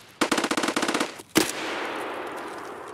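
Video game gunfire: a rapid automatic burst of about a dozen close, sharp shots, then one louder blast that trails off into a fading reverberant rumble.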